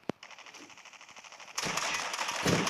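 A pump shotgun in Call of Duty Mobile fires in fast bursts like an automatic weapon: one sharp report, then a dense run of rapid shots growing louder near the end.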